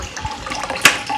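Water runs into a cooking pot being filled for chilled drinking water, a brief close splashing rush with one sharper burst near the end.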